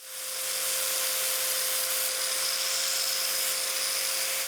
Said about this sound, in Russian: делаем, вытачиваем болгаркой или приспособление к болгарке